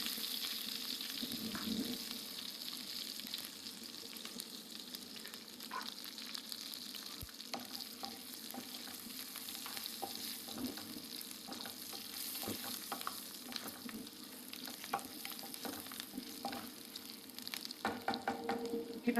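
Garlic fries in hot oil with dried red chillies and asafoetida for a tempering: a continuous close sizzle with occasional stirring scrapes and spatters. No talking.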